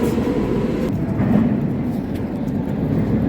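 A Cairo metro train rumbles at a station, a steady loud low-pitched roar of wheels and motors filling the platform from close by without pause.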